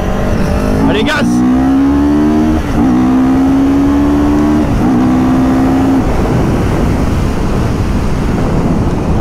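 A racing car in a sim accelerates hard on full throttle out of a corner, engine note climbing through several gear changes with brief dips between them, loud and close, then the revs fade into steady road and wind noise.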